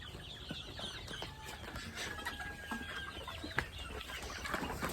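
Chickens cluck softly in the background, scattered calls over a faint, steady ambient hum.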